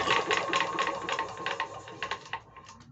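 A Bernard W19A engine with new piston rings cranked over to prime, a quick rhythmic whirring chug with light rubbing noise, close and fairly loud, slowing and stopping near the end.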